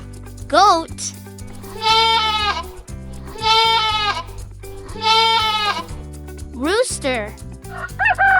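A goat bleats three times in long, quavering cries, loud and near, separated by brief gaps and set over soft background music with short rising tones at the edges.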